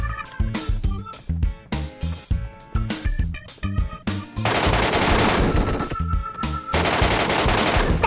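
Rapid bursts of automatic gunfire in a shooting video game, loud and close, coming in quick clusters of shots with short gaps before a denser stretch of noisy firing and effects.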